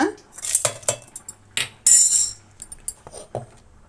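Metal spoons scrape and clink against pans and a mixer jar as fried spices and ingredients for a ridge gourd sambar masala are transferred, a series of sharp, close, irregular knocks and clatters.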